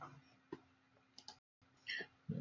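Computer mouse clicks sound as a few sharp, isolated ticks close by, spaced irregularly over quiet background with a brief faint noise near the end.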